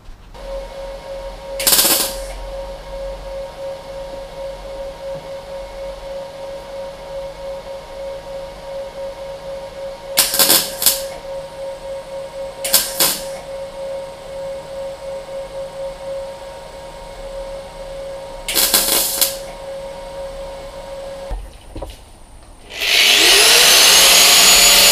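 Welding on a car bulkhead: several short bursts of crackling, buzzing welding noise separated by pauses, with a steady tonal hum underneath, then a loud sustained hiss near the end.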